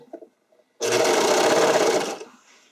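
A serger runs steadily at high speed sewing fabric for a figure skating skirt for over a second, a dense mechanical whir that cuts off abruptly, with faint handling sounds before and after.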